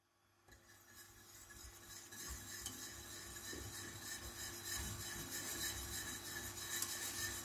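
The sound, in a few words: stirring a boiling pudding mixture in a pot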